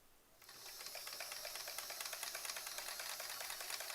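An embroidery sewing machine runs with its needle unthreaded, giving a faint, quick, regular mechanical clatter of ticks over a soft hiss, steady from start to finish.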